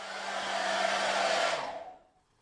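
A hair dryer blows with a loud, steady rushing whoosh while drying coats of paint, then winds down and cuts off near the end.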